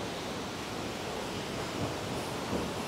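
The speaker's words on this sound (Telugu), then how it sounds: "వాటర్ చాలా ఫోర్స్ తో వస్తుంది" The Valachal waterfall rushes with force, a steady, dense roar of churning water that fills the air continuously without pause, heard close by with no voices.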